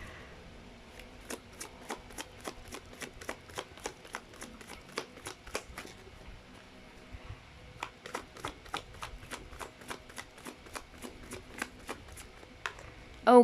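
Tarot cards being shuffled in two bursts of rapid, crisp riffling clicks, close and fairly quiet, separated by a short pause, with a louder handling noise at the very end.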